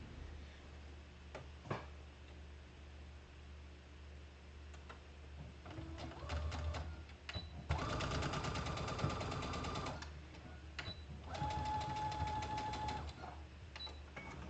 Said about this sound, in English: then I'm gonna sew that little seam again